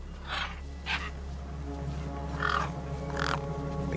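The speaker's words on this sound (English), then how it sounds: "The gang birds were eyeing up the corpse hungrily." Crows caw several times, moderately loud, over a low steady hum in the video game Beyond a Steel Sky as they gather near a corpse.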